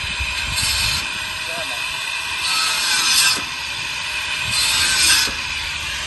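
A machine cutter whirs continuously while cleaning a Jeep Rubicon, with three harsh swishing cutting bursts recurring about every two seconds.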